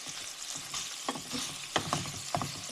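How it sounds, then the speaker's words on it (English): Ground beef frying in a pan with onions and garlic, a steady soft sizzle with occasional louder crackles and stirring scrapes, no talking. "let's just go ahead and get the ground beef all cooked"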